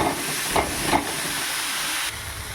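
Boiled cabbage dropped into hot oil for an aloo cabbage chorchori, giving a loud continuous steamy hiss and sizzle with a few soft pops, easing slightly near the end.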